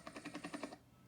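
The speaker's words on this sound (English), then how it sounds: "That's a helicopter sound." Fast rhythmic chopping pulses of a helicopter's rotor blades in the Ballyland Sound Memory app game, fairly faint and lasting under a second before fading into background hiss.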